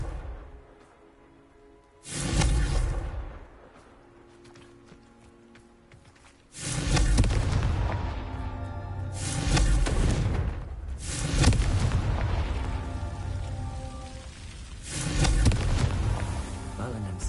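Confringo fire spell explosions in the video game Hogwarts Legacy on PS5: five loud booming blasts at irregular intervals, each with a crackling, roaring tail, separated by quieter stretches of game ambience.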